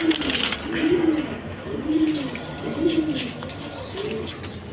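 A pair of big Maltese pigeons coo in repeated rolling phrases about once a second, close and clear, with a brief chirp at the start.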